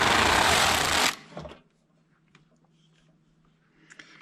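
A Passap E6000 knitting machine carriage knits a row of ribbing in one loud, whirring swish lasting about a second, then falls silent apart from faint clicks.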